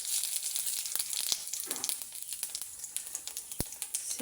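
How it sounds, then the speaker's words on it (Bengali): Bay leaf and cumin seeds frying in hot oil for a tempering, a steady close crackling sizzle with scattered sharp pops and spits over the whole stretch. "ফোড়নে আমি দিয়ে দেবো তেজপাতা,"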